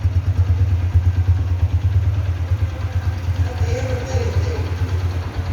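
A Honda 150cc motorcycle engine idles with a steady low throbbing rumble, close by, while a voice talks faintly in the background.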